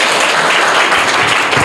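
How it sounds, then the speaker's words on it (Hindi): Loud, dense applause fills a school quiz competition in Mumbai after a correct answer, a brief burst of many hands clapping close by with no voices. "जोरदार तालियां।"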